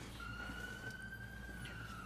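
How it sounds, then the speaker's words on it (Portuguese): A wailing siren in a Portuguese-language drama, with a single steady tone holding across the clip over a low, constant background rumble and no voices. "Som de sirene."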